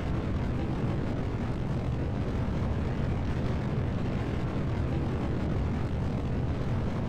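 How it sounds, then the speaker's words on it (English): A Delta IV rocket launching from the Kerbal Space Center in Kerbal Space Program, its engine giving a continuous, dense, loud roar that holds steady without a break and without talk. "We are currently launching out"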